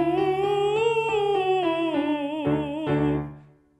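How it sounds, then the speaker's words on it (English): A voice sings a sustained, light, breathy falsetto tone that slowly glides downward with gentle vibrato, breaking into a few short pulses before fading out. "In the male voice, a falsetto sound will sound like this."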